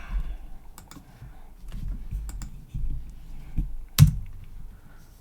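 Keys tapped on a computer keyboard while entering Python code, sparse light clicks with one sharper knock near the end, quiet and close.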